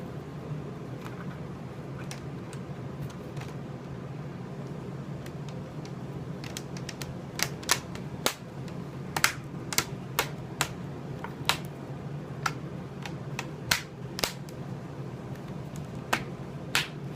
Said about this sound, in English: Then I have the plastic bezel that I took off. Just going to snap that back into place.